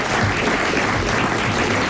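Steady, loud applause from a crowd, continuous clapping filling the whole moment without a break.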